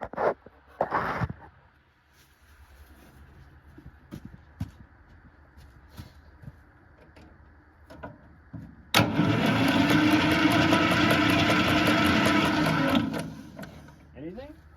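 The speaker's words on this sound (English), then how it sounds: "I'm gonna try to crank it, see if I see any fuel." Starter cranking on a 1950s Fordson Major tractor with minor issues: a loud, sustained churning burst of about four seconds with a steady rhythmic pulse, set between quieter stretches of handling noise and brief clanks.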